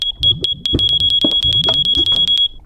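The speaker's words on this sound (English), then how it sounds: "So the alarm is going to go off for 32 ticks, the length of this repeater, right?" A fire alarm in a video game beeps in a rapid, even series of sharp, loud tones, each one ringing clearly with no talk over it.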